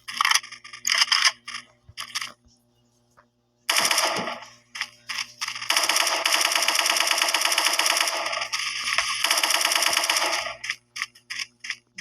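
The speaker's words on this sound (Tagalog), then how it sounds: "May gatling gun kaya mag-iingat tayo mga par." A gatling gun fires in a video game in rapid, loud bursts, with short stuttering volleys first and then a long sustained roll of shots broken by brief gaps.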